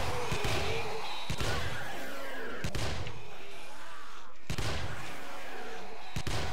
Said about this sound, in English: time to pull out the submachine gun